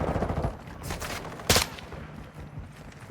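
Gunfire in the video game Call of Duty Warzone, a quick run of sharp shots followed by one louder burst, all within a few seconds.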